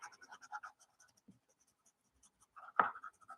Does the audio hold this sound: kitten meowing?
no